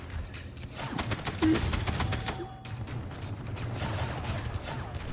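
A Type 92 machine gun fires in a WWII Pacific beach-invasion video game, in rapid rattling bursts with a mechanical clatter, and distant gunfire continues throughout.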